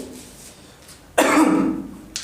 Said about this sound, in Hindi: बार बार खांसी आ रहा है